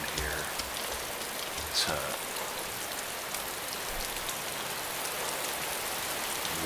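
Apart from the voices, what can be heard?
rain falling in DayZ Epoch video game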